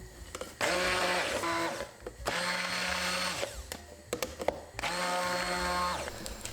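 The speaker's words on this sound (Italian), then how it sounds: "Frulliamo tutto quanto con il frullatore ad immersione." An immersion blender whirs in three loud bursts through a bean soup, each running about one to two seconds, with short pauses between them.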